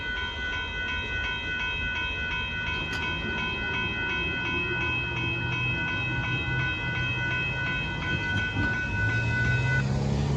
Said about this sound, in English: Yep, there goes Amtrak.